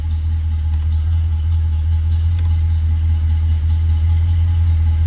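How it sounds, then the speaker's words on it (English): A 1966 Ford Galaxie convertible with a 7.0-liter 428 V8 idles steadily, a deep, even low rumble close by and loud, running alone without voices. "Car starts right up, runs like it should."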